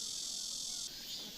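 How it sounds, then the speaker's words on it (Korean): Cryptotympana atrata cicada giving a long, unbroken buzzing song at a steady level, loud and close, with a slight shift in tone near the end and no voices. "말매미는 끊어짐 없이 긴 울음소리를 낸다."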